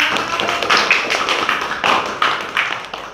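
A classroom of students claps together, a burst of dense hand claps rising and falling in waves for a few seconds with no talk over it.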